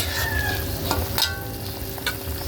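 A spoon stirs chicken tinola in a pot over a steady sizzling simmer, with a few scraping knocks against the pot rising above the continuous bubbling hiss.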